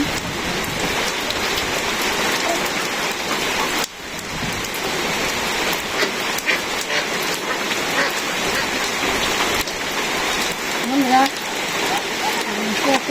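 Steady rain falls on a village during the rice-harvest season, a dense, continuous hiss and patter that holds close and even throughout, with only a brief dip partway through.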